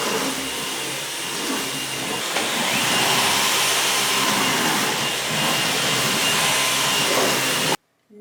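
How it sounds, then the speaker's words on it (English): A vacuum cleaner runs steadily over a floor during household cleaning, a loud continuous whirring roar with slight swells that cuts off abruptly near the end, with no talking. "So I've got my vacuum out, and I'm just going to run that over the floor really quick"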